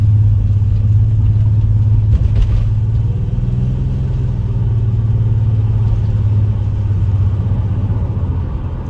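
A Nissan Murano runs with a steady low engine drone and rumble, the transmission shifting through gears with a slight momentary change in tone, continuous and fairly loud with no talk.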